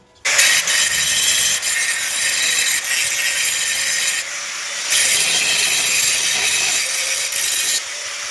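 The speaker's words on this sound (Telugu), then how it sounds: "ఇదిగోండి ఆ మిషన్ గ్రైండింగ్ వీల్తోనే పాలిష్ అయితే చేయాలి" Grinding wheel machine polishing welded joints on zinc pipe for a bed frame, a loud continuous high-pitched whine that dips briefly twice before resuming, close and with no talk.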